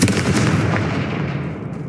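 A Confringo spell's explosion bursts out as a single loud boom that rolls off in a dense, rumbling decay over about two seconds, heard alone with no speech.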